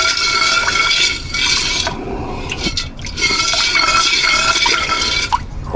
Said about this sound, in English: So I'll give it a good rinse in some distilled water.